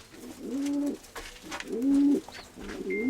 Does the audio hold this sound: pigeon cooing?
yes